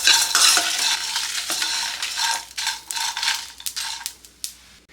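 Grated coconut and sesame seeds roast in a pan on the stove, with loud, close, irregular scraping stir strokes and a dry crackle that gradually thin out and fade.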